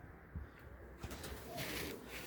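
Soft pigeon cooing and low bird calls drift through a quiet aerated-concrete coop, with faint rustling and no talking.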